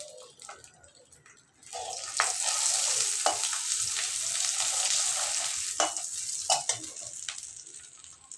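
Dried red chillies and bay leaves crackle and fry in hot oil with cumin, a loud continuous sizzle swelling after a quieter start, stirring scrapes and pops breaking through, close and with no talk.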